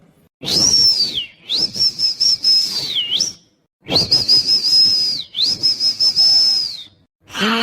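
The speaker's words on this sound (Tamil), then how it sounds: "யாரு பிசில் அடிக்கிறா" A shrill, sustained whistle rising and falling in long phrases, loud and close, with short pauses between bursts.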